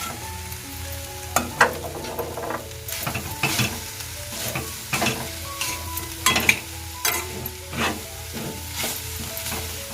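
Grated coconut and jaggery, with a little cardamom, are stir-fried in a pan for a modak filling. A spatula scrapes and knocks against the pan in irregular strokes over a soft, steady sizzle, with no talking.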